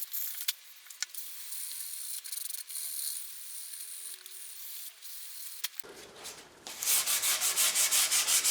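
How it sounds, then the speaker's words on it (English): Sandpaper rubbing down the dried finish on an SG Junior-style guitar body: near-silence at first, then close, loud, steady back-and-forth strokes in an even rhythm. "so it's just a case of sanding it all off now"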